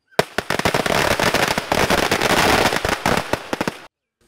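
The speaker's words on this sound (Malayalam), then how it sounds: "ശേഷം പാടത്ത് പടക്കം പൊട്ടിക്കുന്നതോടെയാണ് ചടങ്ങിൻ്റെ സമാപനം" A string of firecrackers bursts in a paddy field in Palakkad at a Vishu farming ritual, rapid loud close cracks rattling on for about four seconds before stopping abruptly, with a few last scattered pops.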